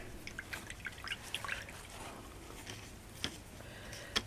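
Tap water trickling and dripping while glue is washed off a small miniature model piece, a soft uneven splashing close by with scattered droplet ticks.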